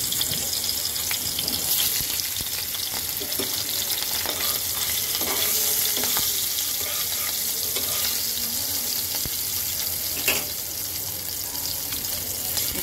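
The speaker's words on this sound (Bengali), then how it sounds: "এখন আমি মাছটাকে ভেজে নেব।" Fish frying in hot oil, a constant bright sizzle and crackle close up, with scattered spatters and a spoon stirring, steady throughout without any voices.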